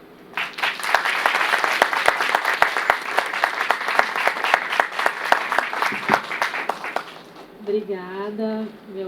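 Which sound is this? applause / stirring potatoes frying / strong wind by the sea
applause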